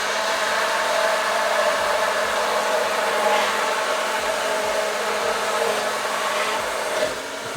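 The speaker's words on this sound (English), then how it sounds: "So I've got my little handy mixer here, and I'm going to put that in." Electric hand mixer running steadily as it blends oil into homemade mayonnaise for a mustard potato salad, a continuous close whirring motor drone with no talk.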